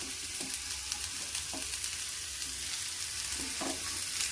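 Eggplant fries in a pan with a continuous hissing sizzle, broken by a few soft knocks of a spatula stirring.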